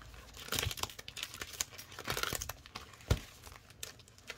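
A paper cash envelope for a savings challenge being handled, with close crinkling and rustling in bursts and a sharper crunch near the end, no speech over it.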